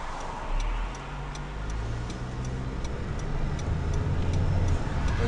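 Rapid, steady ticking of a car's turn signal left switched on during a driving test in Khabarovsk, about a dozen evenly spaced clicks over a low, constant cabin and engine rumble.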